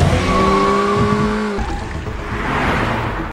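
A car engine revs hard with a brief tire squeal, then the roar drops away abruptly as the vehicle tears off.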